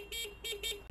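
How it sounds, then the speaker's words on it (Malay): The horn of a SYM Naga motorcycle sounds three short, even toots in quick succession, close and fairly quiet, with no talking. "Dia punya button horn."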